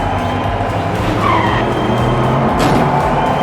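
Diecast toy race cars including a Nissan, Aston Martin and Chevrolet speed around the final corner of a track, a loud continuous racing roar with skidding tire squeal layered over it.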